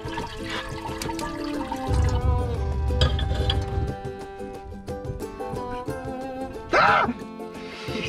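Water splashes and pours inside a converted bus used as a camper van while someone bathes, with dripping, a heavier gush midway and a brief louder pour near the end, over soft background music.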